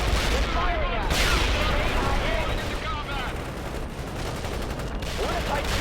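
Enemy gunfire rattles continuously in a World in Conflict battle, dense overlapping bursts and volleys at close to mid range with muffled voices and radio chatter mixed underneath.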